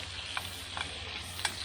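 Squash sizzling in a pan on a hot stove top, a steady frying hiss with a low hum underneath and a few soft stirring clicks, heard alone at moderate level.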